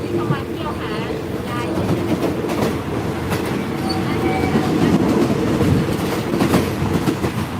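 Steady rumble and rhythmic clatter of a passenger train rolling along the rails between Bangkok and Ayutthaya, Thailand, with faint squeals, continuous throughout and fairly loud.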